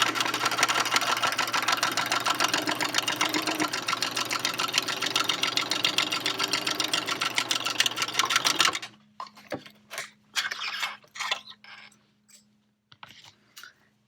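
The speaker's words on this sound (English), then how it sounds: "now it's time to go to the sewing machine" A sewing machine stitching a quarter-inch seam on a fabric face mask runs fast and steadily for several seconds, then stops, followed by scattered clicks and handling of fabric.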